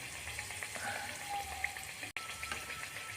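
Sweet dumplings (kozhukattai) sizzle and bubble steadily in hot oil, a constant crackling deep fry with small pops, no talking.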